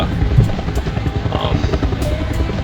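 A helicopter landing on an aircraft carrier in the flight-combat game Jane's Fighters Anthology, heard as a steady, loud rotor drone with dense low thumping that carries on throughout.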